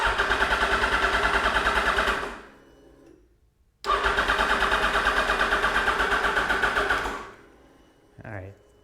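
Yamaha FZ motorcycle engine cranking over on the starter in two long bursts, each a steady rapid rhythmic churn that stops abruptly, with a short pause between them and a brief faint noise at the end.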